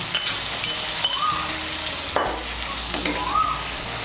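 Mustard and poppy seed paste gets stirred into drumsticks and potatoes frying in a pan, a loud close sizzle with scraping spatula strokes and a couple of light clinks, no voices.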